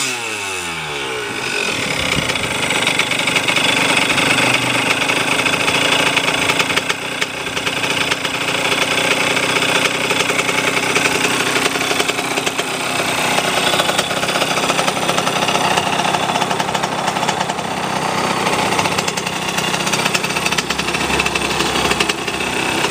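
A 1980 Honda CR80R 80cc two-stroke motorcycle engine runs steadily and loud after starting, a buzzing high-pitched idle that holds close and continuous for the whole stretch with no talking.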